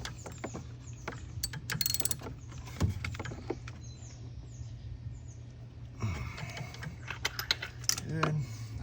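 A ratchet snugs a spark plug into a Porsche Macan S engine, its quick clicking bursts coming in short runs separated by pauses, close-up over a low steady hum.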